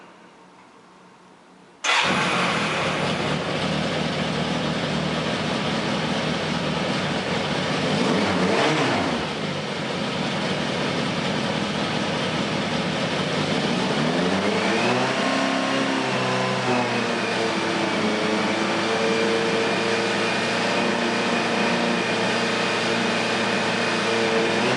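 A car engine cranks and catches about two seconds in, then keeps running steadily at a loud, close idle with a brief rise in revs midway and a rising pitch around fifteen seconds.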